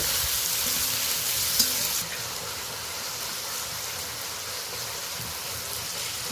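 Spice paste of ginger, garlic, onion and tomato sizzling in hot oil, a continuous close frying hiss with faint stirring, slightly softer after the first two seconds.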